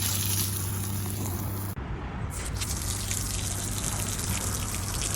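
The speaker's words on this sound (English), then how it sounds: "next I'm going to be turning on both the hot and cold water on the outside shower" Water gushes steadily from the outside shower of a Casita travel trailer with both hot and cold turned on, a loud continuous spray broken by a brief dip partway through.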